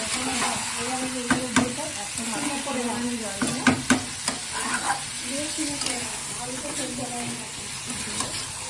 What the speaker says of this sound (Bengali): ভাজা কাঁকড়াগুলো মিশিয়ে একটু নাড়াচাড়া করে